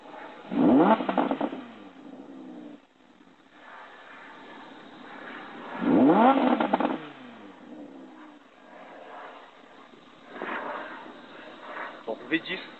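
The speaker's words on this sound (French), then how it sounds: "Donc V10, moteur V10 de 540 chevaux" The 540 hp V10 of an Audi R8 Spyder idles and is revved, giving two loud, sharp throttle blips about five seconds apart plus a smaller rise later, with someone talking steadily between them.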